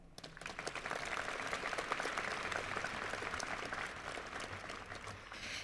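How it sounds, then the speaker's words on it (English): Westover High School graduation audience applauding in 2023 with a steady, dense wash of clapping that holds for several seconds before easing slightly, heard at a moderate distance. "Please help us in welcoming our guests by way of applause."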